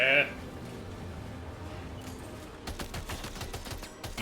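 Rapid bursts of automatic gunfire from the video game Death Stranding 2 crackle through the second half in quick repeated volleys, with a person talking over the shooting.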